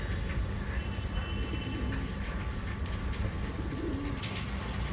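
Pigeons coo in Mumbai during rain. A pair of soft, low coos rises faintly above a dense, hissing wash of rain and background noise, with no speech.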